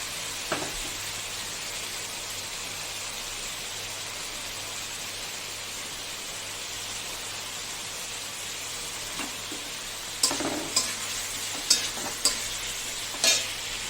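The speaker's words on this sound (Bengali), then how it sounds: "দিয়ে দেবো আমরা ওই কাটি করছি সেদ্ধ কাটি কচুটা একটু কষিয়ে নেবো" Boiled gathi taro being sautéed in oil and spices, a steady soft sizzle and hiss that holds throughout, with a few sharper stirring clatters toward the end and no talking.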